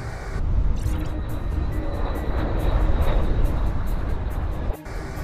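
A Banshee 2 UAV drone flies past loud and close, with a continuous engine drone and a propeller-like roar that dips briefly near the end.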